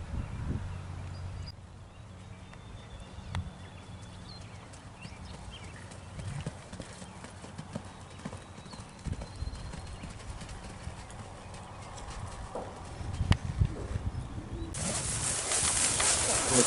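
Liver chestnut Tennessee Walking Horse cantering in an outdoor ring, steady hoofbeats thudding at moderate distance with faint birdsong, a sharper louder burst near the end.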